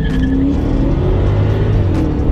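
Cars launching together in a street race, including a BMW 650i, Dodge Charger R/T and Audi A6 and S5, roar loudly and close as engines rev hard and pull away.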